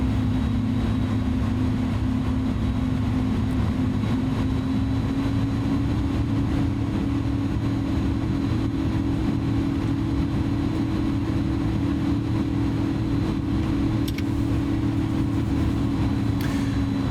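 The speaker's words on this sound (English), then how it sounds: "APU started. Well, it's starting, but yeah, it's getting there." Airbus A310-300 auxiliary power unit spinning up on the ground, a loud, steady low drone with a sustained tonal hum that rises slightly in pitch and holds, continuous throughout with no talking.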